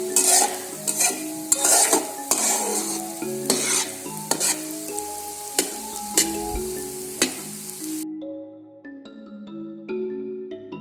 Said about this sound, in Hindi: सूजी फ्राई होना शुरू हो गई है और अब ये पैन के साथ नहीं लग रही